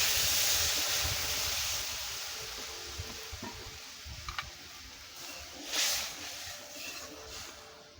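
Water poured into a hot pan with ripe hog plums (amra) for a chutney, giving a steady broadband sizzle and hiss that fades slightly, with a few brief stirring scrapes near the end.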